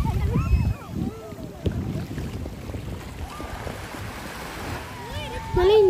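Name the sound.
wind at Hahei Beach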